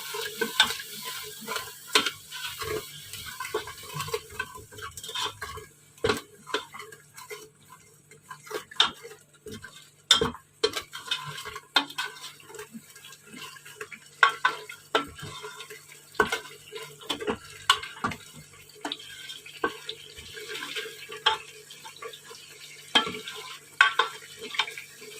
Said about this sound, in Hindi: इस मसाले को अब हम अच्छे से भून लेंगे।